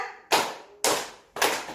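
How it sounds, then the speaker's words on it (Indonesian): Three sharp, evenly spaced hand claps, close and loud, each one ringing briefly before the next, with no talking. "Yang pertama, tepuk 1, tepuk 2, tepuk 3"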